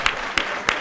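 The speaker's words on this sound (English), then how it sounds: "please give them another round of applause as they exit the auditorium" An audience in a school board meeting auditorium claps in three evenly spaced sharp bursts, loud and close, over less than a second.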